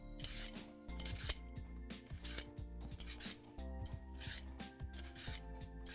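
A vegetable peeler scrapes along an apple in repeated rasping strokes, each a scratchy rub with a brief pause between, close and steady over a low kitchen hum.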